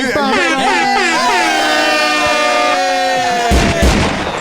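A loud, blaring air horn sound effect wails with wavering tones for several seconds, ending in a couple of booming hits.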